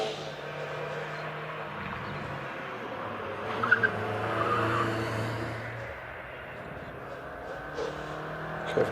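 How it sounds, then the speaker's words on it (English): BMW M140i climbing the Prescott hill climb course during British championship practice, its engine note steady and moderately distant with a brief tyre or gear blip midway, heard under a commentator's continuous talk. "Ben Weeks is on the hill in the BMW M140i."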